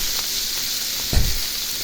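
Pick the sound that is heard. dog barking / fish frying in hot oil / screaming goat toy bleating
fish frying in hot oil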